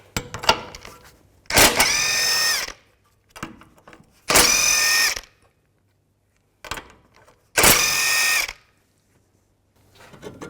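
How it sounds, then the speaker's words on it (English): Three loud bursts of a power tool with a rising whine, separated by quiet gaps and faint clinks, as the bottom nuts of a front lower ball joint on a 2006-10 Volkswagen Jetta are removed using a 16mm socket. "So we'll take these bottom nuts off next. Use a 16mm socket."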